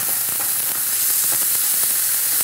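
Ginger and garlic paste frying in a pan gives off a steady, close sizzle that holds evenly throughout with faint crackles mixed in.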